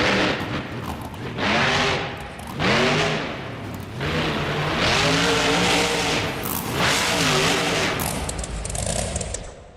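A monster truck engine in a BeamNG.Drive Monster Jam freestyle run revs hard in repeated loud surges, each rising and falling in pitch, with brief pauses between bursts.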